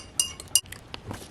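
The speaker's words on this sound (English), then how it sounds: "I just added a few drops of some Southern Gentleman fragrance, okay? And I'm just gonna give it a nice little stir." A utensil stirs a beard oil mixture scented with Southern Gentleman fragrance in a glass, producing a few quick, bright clinks against the glass.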